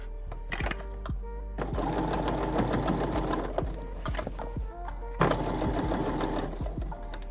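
A sewing machine stitches cotton washable wipes in two long bursts with a short pause between them. The steady, close mechanical whir carries sharp clicks from the needle and the backstitching, with no voices.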